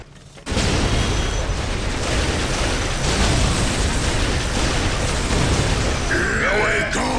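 Gunfire and explosions in the Warhammer 40k Dawn of War Soulstorm video game sound as a dense, continuous barrage of battle noise, with voices talking over it.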